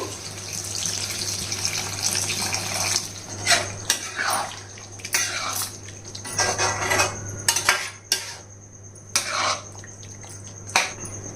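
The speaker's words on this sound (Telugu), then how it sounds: "ఇదిగోండి నీళ్ళు పోసిన తర్వాత బాగా కలిపేసి మూత పెట్టేసి మీడియం ఫ్లేమ్ మీద ఉడకనివ్వాలి" Water is poured into a pot of chicken curry and stirred with a metal spoon, giving a splashing pour followed by repeated clinks and scrapes against the pot, close and alone without talk.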